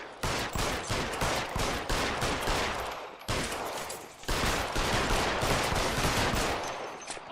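Loud gunfire rings out in the LA Noire video game as rapid shots crack one after another in dense volleys. A brief gap breaks the shooting before another sustained burst continues.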